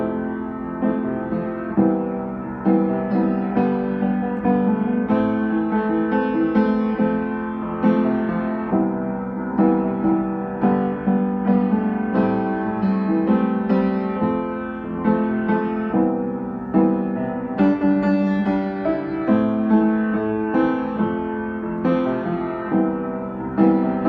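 Acoustic guitar strumming the four-chord chorus of a song, rhythmic and close, with no voices.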